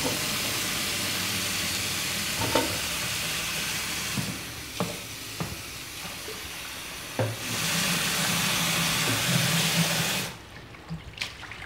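Peanuts being roasted in a pan over low heat, heard up close as a steady hiss with light stirring scrapes and small clicks. It continues for about ten seconds, then quiets to a few scattered taps, with no voices.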